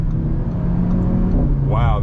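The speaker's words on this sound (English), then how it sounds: "Wow, that engine sounds so unique, and I love the shifts too." A 2024 Audi RS3 (8Y) engine drones loudly and steadily from close by, then its pitch climbs sharply near the end as it revs.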